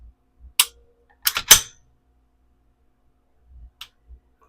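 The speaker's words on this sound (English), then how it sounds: "Trigger, reset. So that's the trigger and the reset on that." A Walther PDP compact pistol's trigger is pulled and reset, giving a few sharp, close mechanical clicks: a single snap, then a quick cluster of clicks, and one more faint click later amid silence.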